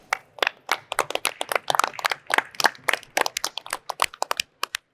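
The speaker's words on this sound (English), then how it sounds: "Give Clint a round of applause." Audience applause at a live aviation maintenance conference panel, scattered individual claps close and crisp, forming an uneven flurry that thins toward the end.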